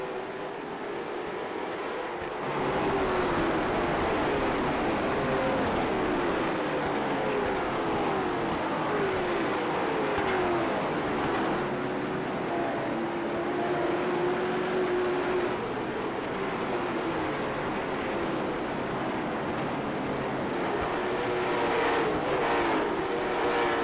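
Late model race cars lap a short oval at Nashville, engines droning loudly and continuously with repeated rising and falling whines as cars pass, no voices over the roar.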